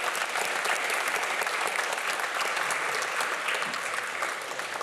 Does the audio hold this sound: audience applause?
yes